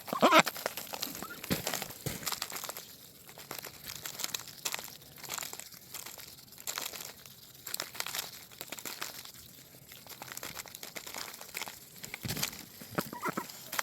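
Pet ducks eat peas close by, giving a busy, continuous run of soft dabbling, crinkling and pecking noises along with occasional faint quacks, with no voices.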